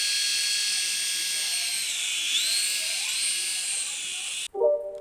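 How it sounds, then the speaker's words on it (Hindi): A remote-control hand-sensor toy helicopter flies nearby with a loud, steady, high-pitched buzzing whine that holds for several seconds, then cuts off abruptly, followed by a short clatter. "ये मैंने इसको स्टार्ट कर दिया है। अब ये उड़ने वाला देखिए किस प्रकार से उड़ रहा है।"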